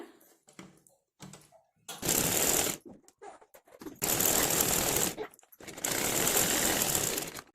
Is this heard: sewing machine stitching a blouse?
yes